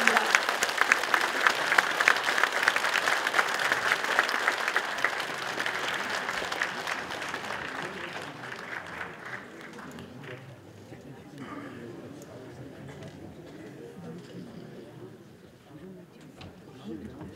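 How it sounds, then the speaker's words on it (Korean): Audience applause welcoming a guest speaker onto the stage at a character-education academy lecture in Yeongju, loud and dense at first, then thinning and fading over several seconds. "여러분 힘찬 박수로 환영해 주시기 바랍니다"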